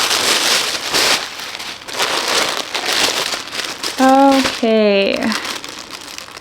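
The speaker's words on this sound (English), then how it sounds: "Also lots of crinkling because I haven't opened up the package yet." A plastic cross-stitch pattern package crinkles loudly and continuously up close as it is handled and opened, with one short spoken word partway through.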